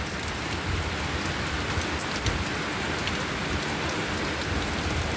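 Steady rain pours down on a rainy day, a dense, even hiss of drops striking surfaces close by, continuous for the whole stretch with no voices.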